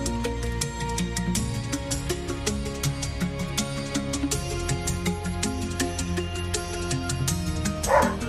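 A pack of dogs bark and yip repeatedly at a bear, defending their puppies, against a steady, droning background, the barks fairly loud and close.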